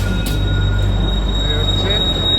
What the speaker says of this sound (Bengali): এই যে টয় ট্রেন যেটা ঘুম স্টেশনে ঢুকছে